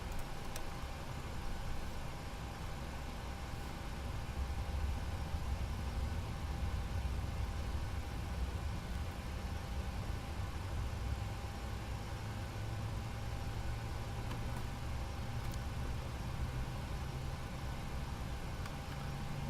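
A jet airliner engine spooling up during pushback in the Prepar3D flight simulator, heard as a steady low engine roar and hiss with a faint high whine, sustained and even without clear rise, no talk over it.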